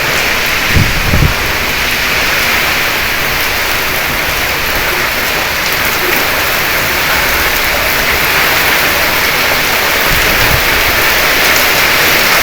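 Heavy rain pours in a loud, dense, continuous hiss, with a couple of low thumps near the start and again toward the end.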